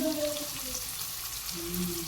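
Chopped onions frying in a kadai with bay leaf and dried red chilli give a continuous sizzle at moderate loudness. A faint voice murmurs in the background.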